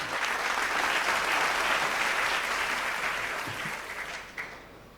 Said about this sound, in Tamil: அருமை நண்பர் சேச்சந்திரன் அவர்களுக்கு பெரிய கரகோஷம் கொடுத்து அவரை